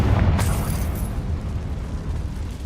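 A Confringo blasting spell goes off in a video game, a single deep booming explosion with a heavy low rumble that fades slowly over a couple of seconds.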